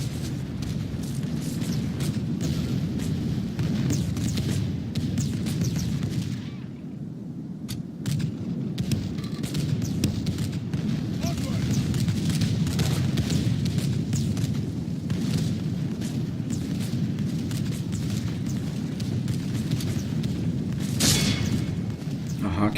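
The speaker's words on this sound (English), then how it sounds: "Arquebusiers are firing at the flanks of these Imperial Tertio pikemen" Arquebusiers and musketeers fire volleys on a battlefield in the video game 1648 Thirty Years War during the Siege of Weimar: a steady dense crackle of distant gunfire over a continuous low rumble, with someone talking throughout.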